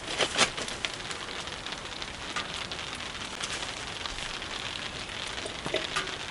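Light drizzling rain falls steadily during a fishing and hunting trip in Yakutia, a soft, even patter with a few sharper drops close by, continuous and fairly faint, with no voices.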